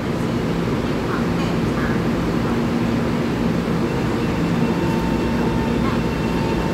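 An EMU703+EMU704 electric commuter train runs from Keelung via the mountain line toward Chiayi, giving a steady, fairly loud rolling rumble with faint tonal whine, continuous from start to finish.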